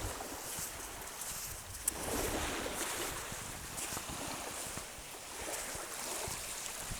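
Steady wash of surf rolling onto Whiting Bay beach, Isle of Arran, at dusk, a continuous broad rush with gentle swells in loudness and no voices.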